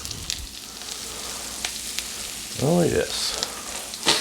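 A pizza grilled cheese sandwich sizzles on a flat-top griddle, a steady crackling hiss that flares louder as it is set down, with a brief spoken exclamation over the frying.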